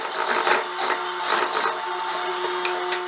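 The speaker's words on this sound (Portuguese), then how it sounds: "vou passar a costura de pesponto rente para formar o acabamento" A sewing machine runs a close topstitch along a jumpsuit facing, a steady mechanical hum with a fine rapid needle rattle and slight surges in speed, alone without talk.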